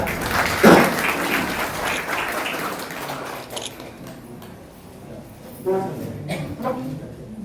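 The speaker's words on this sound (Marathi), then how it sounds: "तर जोरदार टाळ्या होत्या." Audience claps at a retirement felicitation ceremony, a burst of applause that fades into a quieter, scattered patter, with brief talk returning near the end.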